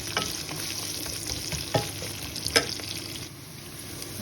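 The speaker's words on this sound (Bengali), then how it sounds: "পেঁয়াজটাকে আমি একটু বাদামি কালার করে ভেজে নেব।" Onions frying in oil in a pan until brown, a soft continuous sizzle with occasional scraping and clicks as a spoon stirs, close and fairly quiet with no speech.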